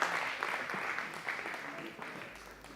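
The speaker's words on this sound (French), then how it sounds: "Acclamons le Seigneur." A church congregation claps during a worship service, a short burst of crowd applause that fades quickly, mixed with voices from the gathering.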